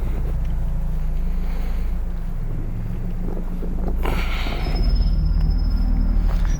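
Strong gusting wind buffets the microphone at a bridge in Arlington, Texas, a loud continuous low rumble and roar that swells harder toward the end, with no talking.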